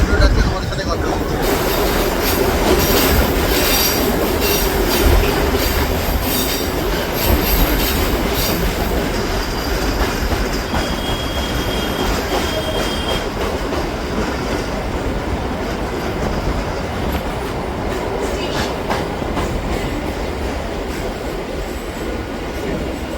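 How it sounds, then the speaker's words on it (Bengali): Inside the Majherhat to Barasat local train in Kolkata, a steady loud rumble of wheels on rails with rattling carriages and brief wheel squeals, continuous throughout. "মাঝিরহাট ছাড়ার পর আমাদের ট্রেনের পরবর্তী হল্ট হলো ডিমাউন্ট রোড"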